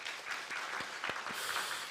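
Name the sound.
congregation applauding in church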